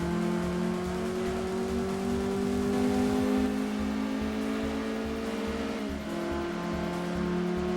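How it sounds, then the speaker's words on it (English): Race car engine in the Gran Turismo 2 video game, a loud steady high-revving drone with a pitch shift partway through as the car changes gear. "This sounds like the Honda Integra in Gran Turismo 4."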